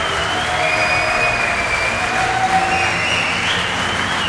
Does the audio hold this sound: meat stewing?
no